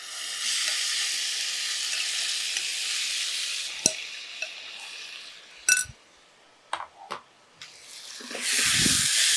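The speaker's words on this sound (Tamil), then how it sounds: "இந்த ப்ரான் இருக்கு இல்லையா, இதை வந்து என்ன செய்ய போகிறோம், இதில் அப்படியே சேர்த்துலாம்." Prawns fry in a pan with sautéed onions, giving a steady loud sizzle broken by a few sharp clinks of a utensil stirring, with the hiss swelling again at the end.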